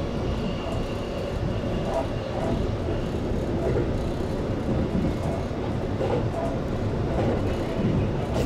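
From inside the Shonan limited express on the Tokaido freight line near Shin-Tsurumi, the car rolls past a stopped container freight train with a constant rumbling roar and faint rhythmic clatter, lasting several seconds with no clear talk.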